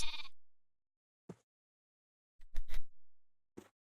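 Sheep bleating in the Minecraft video game, a short call at the start and then several quick, clipped bleats spaced across a few seconds, standing alone against silence.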